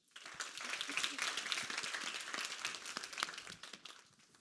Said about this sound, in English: Please give a big round of applause to welcome them onto the stage.